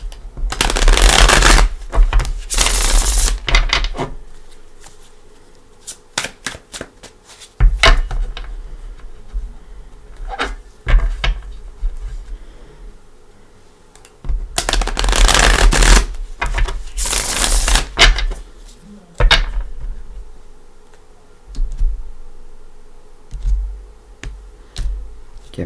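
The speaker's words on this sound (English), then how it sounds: "let's bring in the Gilded Tarot. I'm going to give him a couple shuffles." A Gilded Tarot deck is shuffled in several close, crisp riffle bursts, each a rapid flutter of cards, separated by quieter pauses with small taps and handling sounds.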